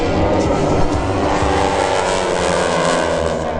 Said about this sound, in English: That beautiful 600 horsepower radial engine.